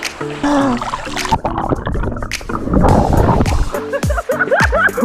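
Loud, irregular splashing and sloshing of river water close by as people play at a campsite in Raub, mixed with chattering voices and bursts of sound throughout.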